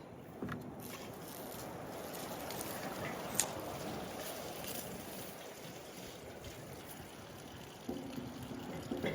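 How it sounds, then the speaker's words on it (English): Water is poured in to wash mud off a surface, a steady splashing, rushing stream that runs continuously and fairly close, with a few faint knocks near the start and end. "we're just gonna actually pour some water in here"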